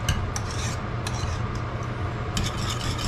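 A utensil steadily stirs milk into food in a pot on a stovetop over medium-low heat, giving a close, continuous rasping scrape with occasional sharper clinks and no talking.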